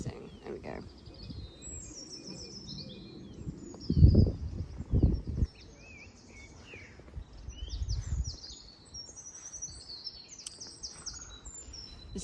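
Garden birds, including a dunnock and a Eurasian nuthatch, chirp and sing in scattered high calls throughout, with soft handling bumps and low rumbles beneath.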